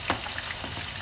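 Pieces of chicken meat sizzle and crackle in a hot frying pan, a close, steady fry with a few sharper pops.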